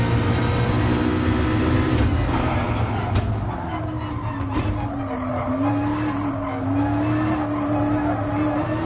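Race car tyres squeal and skid under sustained engine roar as the rear wheels spin from throttle applied too early in GT Sport practice at Dragon Trail, the squeal rising and wavering in pitch over the whole stretch without talk.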